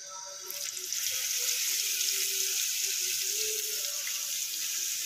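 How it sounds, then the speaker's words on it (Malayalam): Fish dropped into hot coconut oil, setting off a steady, bright hiss of frying that rises quickly and holds loud and even throughout, with faint tonal clatter underneath. "വെളിച്ചെണ്ണ ചൂടായിട്ടുണ്ട് അപ്പോൾ നമ്മൾ അതിനകത്ത് മീൻ"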